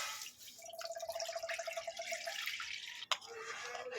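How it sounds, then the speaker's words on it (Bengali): Five hundred grams of Amul milk pours into a pan, a soft, quiet stream of liquid with light trickling and one sharp tap near the end. "এখানে আমি আমুলে পাঁচশো গ্রাম দুধ নিয়েছি ঢেলে দেবে"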